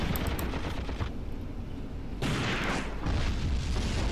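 Guns fire in a tactical war battle in Graviteam Tactics: Mius-Front, dense bursts of gunfire and rumbling booms close by, easing off briefly before a loud heavy blast and more sustained firing.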